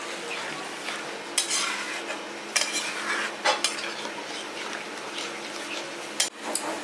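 A spoon scrapes and clinks against a pan while snail curry with poppy seed paste is stirred and mixed, several distinct metallic knocks over a soft, steady sizzle, with no talking.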